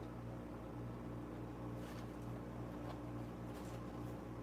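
A household refrigerator hums with a steady low tonal drone, close and continuous, and faint hiss flickers above it with no voices.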